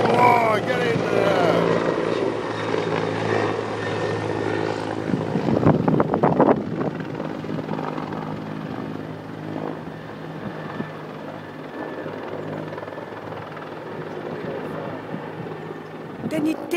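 Firefighting helicopters fly over a wildfire in Sotogrande, giving a constant, heavy rotor drone with gusts of wind buffeting the microphone.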